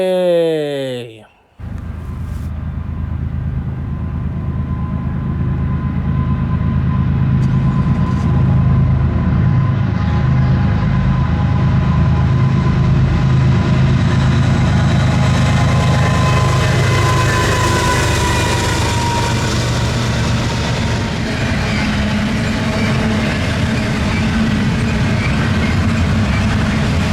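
Westbound freight train passing nearby, a continuous loud low rumble with rolling wagon noise that builds and holds for over twenty seconds after a brief opening sound.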